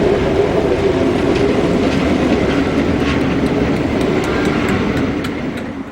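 Two Class 47 diesel locomotives, 47804 and 47500, race through Polesworth hauling a Norwich to Holyhead charter train, a loud, close, continuous roar and rumble of passing rail vehicles that eases slightly at the end.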